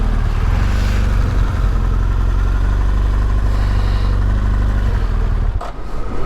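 A car engine hums steadily at close range on a road trip in Serbia, running loud and even before cutting off abruptly near the end.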